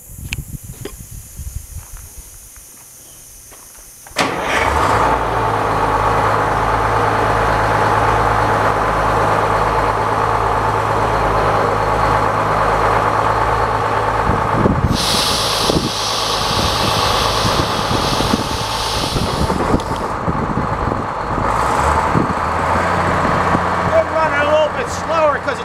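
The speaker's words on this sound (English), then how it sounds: "So we're going to start this old motor up and see what we can do here." An old sawmill motor used to slice pumpkins turns over, catches and settles into a loud, steady low rumble with hissing, and there is a brief high whine partway through. A voice talks over it.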